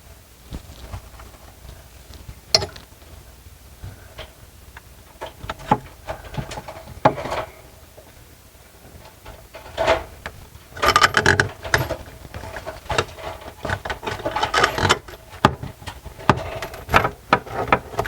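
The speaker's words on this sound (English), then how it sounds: "now we'll come in here with a screwdriver and we'll snug it down" A screwdriver working a faucet mounting tool to tighten the nut under a kitchen faucet: irregular metallic clicks, scrapes and ratcheting taps in uneven clusters, close by, growing busier toward the end.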